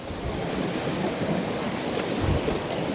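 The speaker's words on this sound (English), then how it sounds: "that wind is literally howling across" Storm Bert's wind roars continuously across Poole Harbour, a dense, rushing broadband noise with heavy low buffeting against the microphone and no pauses.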